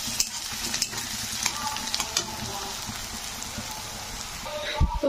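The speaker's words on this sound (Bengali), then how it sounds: "এদিকে কিন্তু পেঁয়াজ ভাজা হচ্ছে" Onions frying in a pan for a South Indian mango fish curry, giving a steady dense sizzle with stirring scrapes throughout, close and continuous.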